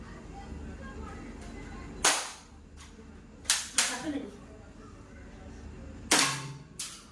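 A toy AK-47 Kalashnikov rifle fires sharp, snappy cap-like pops, four or five irregular shots spaced a second or more apart, over a low background murmur.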